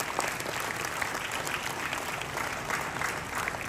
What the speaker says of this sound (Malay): Kita bagi tepukan yang gemuruh kepada beliau.